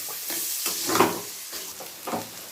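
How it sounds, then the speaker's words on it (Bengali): Chopped onions fry in a pan with whole garam masala, making a steady sizzle that swells into several louder bursts, as if stirred, with no voice over it. "পেঁয়াজটাকে আমাকে একটু হালকা লাল করে ভেজে নিতে হবে।"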